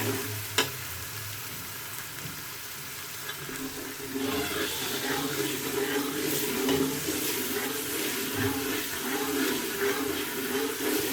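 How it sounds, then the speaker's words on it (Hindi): Water poured into a hot pot of fried spices for black chickpea curry sets off a loud, steady sizzle and bubbling that continues, after a quieter stretch of gentle frying. "थोड़ा सा पानी ऐड इसमें करेंगे।"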